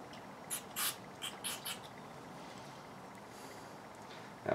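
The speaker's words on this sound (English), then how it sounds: "first let me just spray a little bit of carb cleaner in here." Short hissing bursts of carb cleaner sprayed into the carburetor of a Yamaha Warrior 350 ATV during a rebuild, about five quick spurts in the first two seconds, close and moderately loud, followed by quiet room tone.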